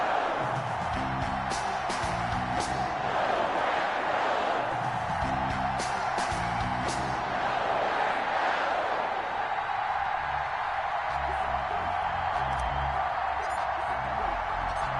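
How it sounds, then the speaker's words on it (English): A stadium crowd at an NFL game between the New York Giants and the Green Bay Packers keeps up a steady, dense roar for the whole stretch, with voices and musical tones layered beneath it. "This crowd is ready as their guys get set to match up between the New York Giants and the Green Bay Packers."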